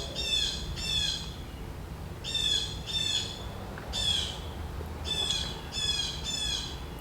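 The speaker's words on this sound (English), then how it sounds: "It's a really loud bird." A loud bird calling outdoors, repeated harsh squawking phrases in groups of two or three with short gaps between them, standing clearly over a low steady background rumble.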